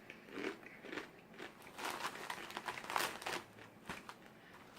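Crunching bites into a coated Korean packaged snack, a string of crisp, close crackling bites and chews repeating steadily with no talking.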